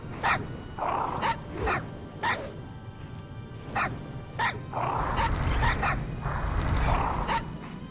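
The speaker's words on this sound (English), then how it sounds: "Super Bark. Barks with incredible power, dealing 189 beast damage." A dog's powerful bark attack in World of Warcraft sounds as a string of sharp, separate yips and barks with a few whining tones in between, with no talking.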